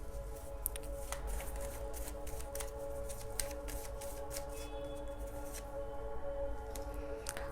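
Tarot cards being shuffled by hand, soft repeated riffling and sliding flicks in an irregular rhythm, close and fairly quiet.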